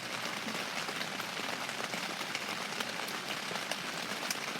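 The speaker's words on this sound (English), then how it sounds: "On today's forecast, it is raining like a motherfucker." Heavy rain pours down steadily, a dense and continuous hiss of drops pattering on surfaces, loud and close throughout with no speech.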